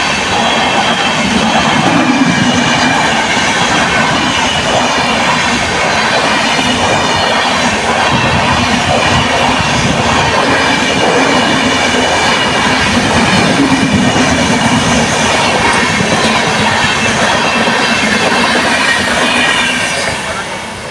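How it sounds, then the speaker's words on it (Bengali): A very long train thunders past a closed level crossing, a loud, close, continuous roar of wheels and rattling wagons that lasts throughout before easing slightly at the end. "আর ট্রেনের যে আওয়াজ, প্রচণ্ড আওয়াজ।"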